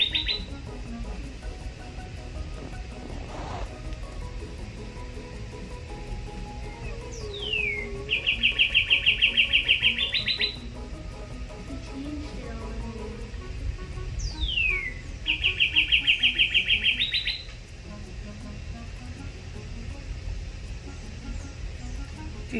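Two birds trade calls, each burst a rising sweep followed by a rapid buzzy trill lasting a couple of seconds, repeated about seven seconds apart over faint outdoor ambience with insects.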